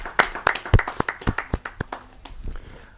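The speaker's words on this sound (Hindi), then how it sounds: "जोरदार तालियों के साथ हम उनका स्वागत हैं" A short burst of applause at a Hindi poetry recital, sharp claps rippling out from a small crowd and thinning to scattered taps by the end.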